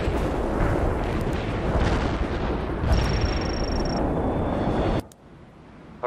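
Anti-tank strike in the video game World in Conflict, a dense barrage of loud booming explosions and rumbling blasts that rolls on for about five seconds, then cuts off abruptly to a quiet background.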